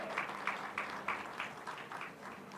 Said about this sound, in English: A round of applause for him as he comes to the podium, please.